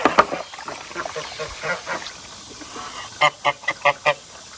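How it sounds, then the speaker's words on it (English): Several loud honks from a goose in a short, evenly spaced burst near the end, following scattered rustling and calls. "Listen, you angry goose."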